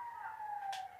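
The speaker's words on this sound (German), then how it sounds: "Ich werde von einem Krankenwagen überfahren." Ambulance siren in the video game GTA 5, a steady wailing tone that swells loud and close as the vehicle runs the player down, with no talk.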